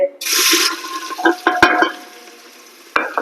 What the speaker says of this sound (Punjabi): ਤੇਲ ਹੋ ਗਿਆ ਗਰਮ ਤੇ ਹੁਣ ਵਿੱਚ ਅਸੀਂ ਪਾ ਦਾਂਗੇ